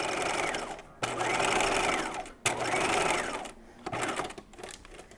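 Sewing machine stitching understitching on sailor pants, running in three close bursts of steady motor whir separated by short pauses as the fabric is pivoted.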